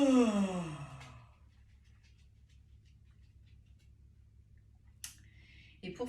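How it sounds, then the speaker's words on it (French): During a breathing exercise a person exhales with a long, voiced yawn that fades out over about a second, followed by quiet with a faint tick and a small rustle near the end. "Et on expire dans un bâillement."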